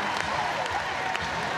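A big, raucous netball crowd in Christchurch cheers and applauds in a steady, distant wash of noise, with a commentator's voice running over it.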